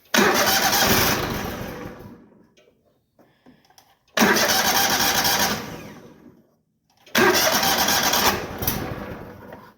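A 27 horsepower carbureted Kohler engine on a portable winch cranks and fires in three loud, close bursts, each roaring briefly before fading away, with short quiet gaps between attempts.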